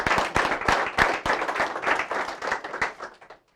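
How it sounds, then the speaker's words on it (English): An audience claps enthusiastically for a speaker at a capstone presentation, producing dense, steady applause that lasts several seconds before tapering off near the end. "If you all will give her a warm round of applause,"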